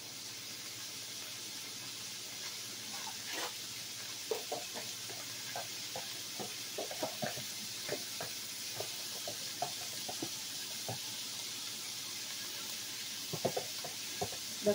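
Meat being seasoned with sofrito in a pan gives a soft steady sizzle, with scattered clicks and taps of a spoon against the cookware.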